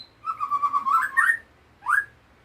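A white-rumped shama gives a clear whistled call: a rising, warbling phrase followed after a short gap by a second brief rising note, close and alone.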